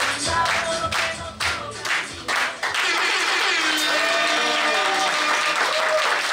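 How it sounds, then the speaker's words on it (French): A crowd applauds loudly for African modern dance performers at an evening event in Cotonou, with claps fading as a long sustained tone rises and continues under them. "Applaudissements très forts pour eux, encore, s'il vous plaît."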